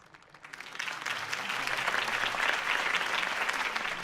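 An audience breaks into applause after a campaign speech, the clapping rising from quiet over the first half second into a steady, dense wash of many hands that holds to the end.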